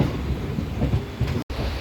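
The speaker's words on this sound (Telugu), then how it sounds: "ప్రజెంట్ మన ట్రైన్ 4వ నెంబర్ ప్లాట్ఫామ్ నుంచి అయితే బయలుదేరింది" A MEMU express train pulling out of Bhimavaram Junction rumbles close by with a steady rolling clatter, broken by a brief dropout just before the end.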